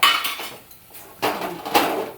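A metal wok clanks as it is lifted off a stove, with two or three bright scraping, rattling bursts separated by a short quiet gap, close by and without talk.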